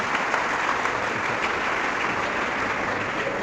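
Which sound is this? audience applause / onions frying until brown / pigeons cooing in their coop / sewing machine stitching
audience applause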